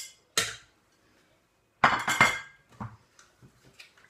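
Sun-dried tomatoes in oil dropped into a Monsieur Cuisine mixing bowl for a tomato-feta spread: a sharp clink, a pause, then a longer clattering tumble with scattered small knocks afterward.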